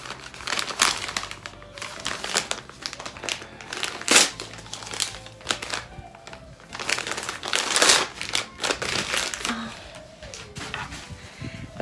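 Christmas wrapping paper on a stocking gift crinkles and tears up close in irregular, loud bursts as it is unwrapped, with a person talking at times.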